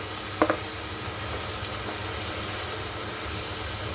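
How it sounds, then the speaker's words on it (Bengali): Chili powder fries in a pan, a soft steady sizzle running underneath after a couple of brief clinks of a utensil near the start. "দেখো দেখতে পাচ্ছ ভালো করে ভাজা হচ্ছে"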